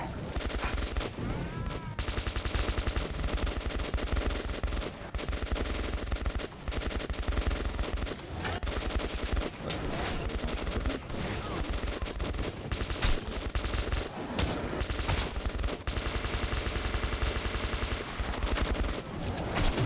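Dense, sustained gunfire in the video game Metro 2033, with rapid automatic bursts and overlapping shots rattling continuously at high volume from start to finish.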